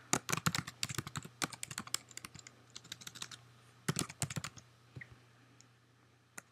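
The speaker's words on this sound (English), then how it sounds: "So we're going to type that in here." Typing code on a computer keyboard, a quick irregular run of close, crisp key clicks in short bursts with a pause in the middle, over a faint low hum.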